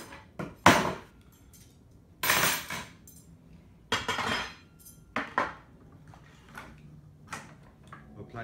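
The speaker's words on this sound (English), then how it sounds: "we're placing two of the longer rods" Metal rods clink and knock as they are fitted into a Printtable S Series 3D printer frame, a series of sharp metallic taps and scrapes spaced irregularly with quiet gaps between.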